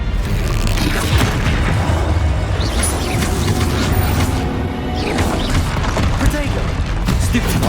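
Bombarda spell explosions and combat impacts in Hogwarts Legacy on PS5 sound as repeated booming blasts and crashes over a dense, busy battle soundscape, with spell-casting shouts mixed in.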